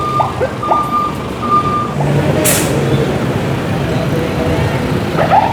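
Large trucks on a city street near a boulevard corner rumble nearby with an air brake hiss and intermittent beeps amid steady traffic noise, while someone talks over it.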